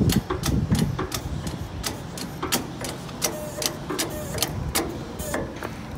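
Hand pump on a boom lift's hydraulic valve being worked to lower the upper boom, producing steady rhythmic mechanical clicks and knocks, close and repeated throughout.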